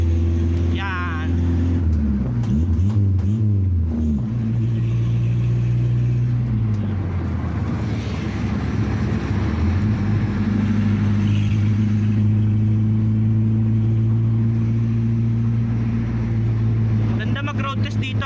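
A Tamiya owner-type jeep is driven on a road test near a city hall in Imus, its engine droning and shifting pitch as it accelerates and cruises, close and steady throughout with someone talking over it.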